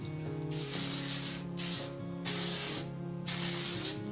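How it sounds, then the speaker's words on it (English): Repeated bursts of hairspray sprayed onto bangs, four long hissing sprays separated by short pauses, close and loud, with a faint low hum underneath. "Now I spray my little bang section generously"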